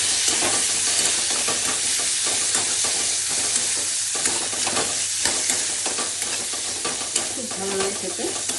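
Kidney beans sizzle and fry in hot oil in a pan while a spoon stirs them, giving a steady crackling hiss with scraping strokes close up and no talking.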